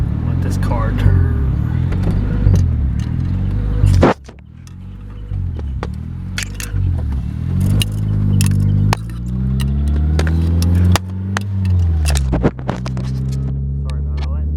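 Car rumbling along and turning on a bumpy road, a steady low engine and road drone with rattles and knocks, while someone talks over it throughout.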